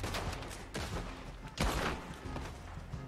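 Gunfire from the Red Dead Online western shooter game on PS4, a run of sharp shots and muffled thuds, several bursts spread across the stretch at moderate level with a busy game background.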